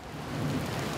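Heavy rain pours down steadily outdoors in a park where a blessing ceremony is being set up, a dense, continuous wash of drops with a faint low rumble underneath, loud and unbroken throughout.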